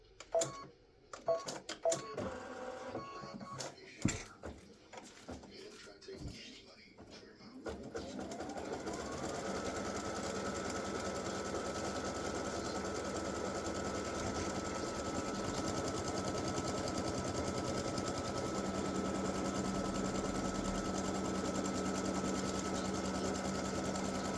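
An embroidery machine stitches the horizontal and vertical alignment marks for a side-seam Valentine design on a t-shirt, running as a steady, continuous mechanical hum and rapid needle chatter after a few seconds of scattered handling clicks.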